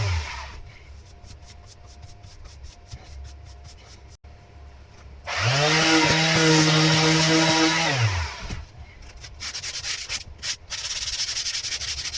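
Fairing on the sides of a boat is sanded, with faint rhythmic rubbing strokes, then a loud power sander whirs steadily for a few seconds before winding down back into quieter scraping.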